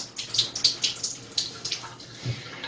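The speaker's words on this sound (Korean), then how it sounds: "자, 자 이렇게 수도를 틀었어요" Water running from a wall-mounted bathroom shower faucet just after it is turned on, a steady splashing flow with irregular bright spatters, fairly close and with no talk.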